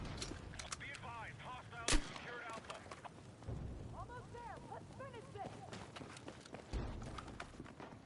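Artillery fire in the video game Battlefield 6 lands as a couple of sharp, distant booms amid a busy battlefield backdrop, with a voice talking over the gameplay throughout.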